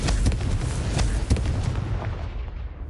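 Confringo spell blasts striking candelabras in a Harry Potter video game, a rapid series of loud booming impacts over a couple of seconds, fading out at the end.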